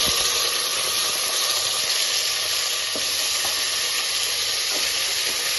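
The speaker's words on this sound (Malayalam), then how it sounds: "ഇതാ ഓയിൽ അത് ചൂടായി വന്നിട്ടുണ്ട് ഇതിലേക്ക് രണ്ട് വലിയ ഉള്ളി കട്ട് ചെയ്ത് വെച്ചത് ഇതിലേക്ക് ഇട്ട്" Two large chopped onions sizzle in hot oil in a pan, giving a loud, steady crackling hiss with faint stirring scrapes and no voices.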